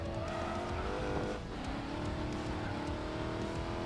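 Modified Dodge Challenger SRT Hellcat drifting in the Racing Master mobile racing game, a steady loud engine drone with tire screech running continuously through the slide, briefly dipping mid-way.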